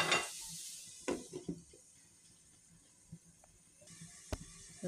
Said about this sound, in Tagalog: So, takipan natin hanggang sa maluto yung pork.